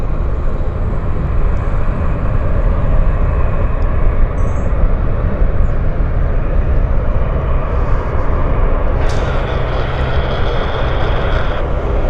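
An Air North airliner at Vancouver airport gives a loud, steady, broadband engine roar that holds throughout, with no voices.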